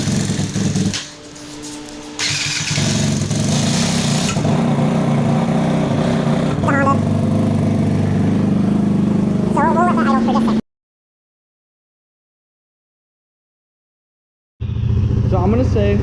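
A Honda Rancher 400 ATV engine idles steadily and loudly at close range, with a brief dip early on and a cut to silence before the idle resumes near the end.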